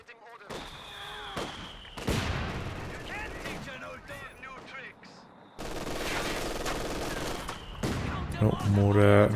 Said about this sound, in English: Oh, mortar versus mortar action here.